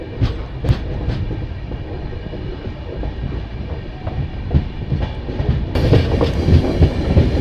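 The 13145 Kolkata–Radhikapur Express rolls along the rails after leaving Raiganj, heard from on board as a loud, steady rumble with rhythmic wheel clicks and knocks that swell slightly toward the end.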